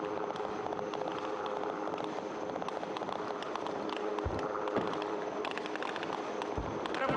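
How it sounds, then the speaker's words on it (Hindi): Gunfire during an Indian Navy combat demonstration in Ratnagiri, heard as distant scattered pops and cracks over a steady outdoor rumble, fairly faint, with a couple of deeper thuds. "आप गोलियों की बौछार होते हुए देख रहे हैं"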